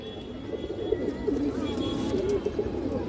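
A female silver bezi pigeon coos nearby, soft low rolling calls repeating steadily over a faint background hum.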